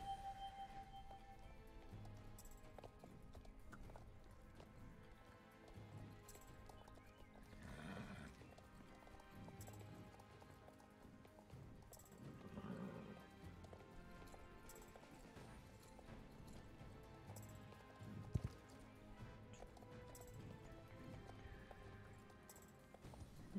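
Horse hooves gallop in the Star Stable Online video game, a steady, close clip-clop rhythm with whinnies and neighs, set over continuous game music throughout.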